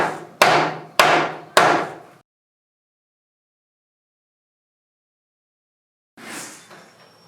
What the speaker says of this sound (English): I'm going to have to knock these out real quick and then pound them into place.